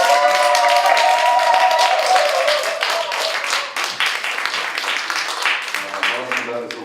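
A seminar audience claps to welcome a speaker to the front, sharp scattered hand claps that thin out over several seconds, with sustained tones at first and a voice talking over the clapping.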